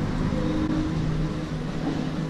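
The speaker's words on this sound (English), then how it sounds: "This thing needs a freaking muffler put on it." A loud race car engine without a muffler runs at Fuji Speedway, a constant, heavy, raw drone that holds close and steady for the whole short stretch.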